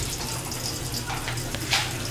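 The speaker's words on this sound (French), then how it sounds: "Je vais retourner mettre dans l'eau encore." Water sloshing and splashing as salted dried fish goes back into a basin of water, a steady running-water wash with a few louder splashes near the end and no talking.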